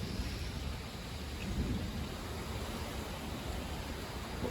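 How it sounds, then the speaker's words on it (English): A thunderstorm in Florida brings a dense, steady roar of rain and gusting wind under a gust front, with low rumbling thunder running throughout, continuous and enveloping with no voices. "We have another massive thunderstorm rolling in."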